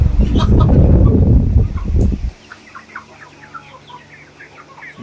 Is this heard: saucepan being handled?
no